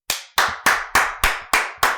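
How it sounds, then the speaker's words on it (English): A round of applause from a single pair of hands: seven sharp, evenly spaced claps in quick succession, close and loud, with no voices. "I'm not only going to give you a real round of applause"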